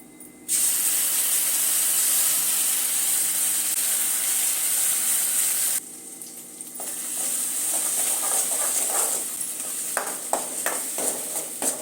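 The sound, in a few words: ground masala frying in a pan for mutton gravy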